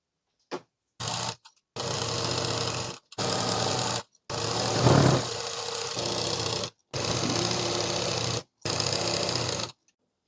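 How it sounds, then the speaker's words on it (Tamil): A sewing machine stitches around a chudidhar neck in repeated runs of steady mechanical whirring, each lasting one to two seconds and separated by short silent pauses, close and alone. "நம்ம இதை சுற்றியுமே அப்படியே வந்து தையல் போடணும்"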